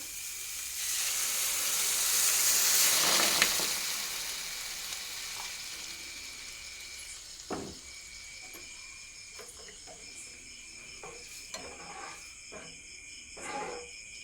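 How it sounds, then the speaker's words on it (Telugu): A diet soup simmering in a pot with water added after a light fry, giving a soft continuous hiss with scattered small pops and clinks, fairly faint and without talk. "ఇది బాగా మరగనివ్వాలి మరుగుతుంది"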